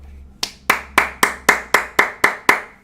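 A single pair of hands claps nine times in a quick, even rhythm, each clap crisp and close, with a low hum underneath and no talking.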